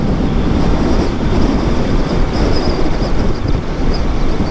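Steady, heavy wind buffeting the microphone while riding a Royal Enfield Classic 650 motorcycle, a loud continuous low roar with no pauses and no talking.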